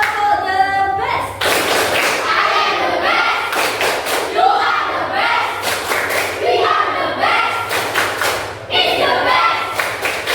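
A school class doing the 'tepuk the best' clapping chant, with rhythmic group claps and thumps mixed with children's shouted chanting voices, loud and close.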